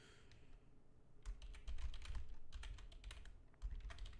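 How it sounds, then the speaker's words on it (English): Someone types fast on a computer keyboard close by, a dense run of key clicks with brief pauses. "I was just typing that out for Discord."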